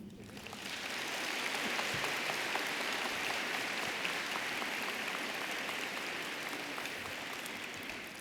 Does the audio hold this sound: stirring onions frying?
no